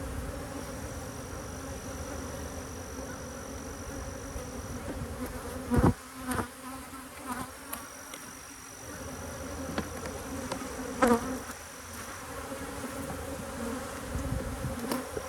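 Honey bees buzz continuously around an open hive, a dense close drone with individual bees zipping past and brief bumps of handling noise midway.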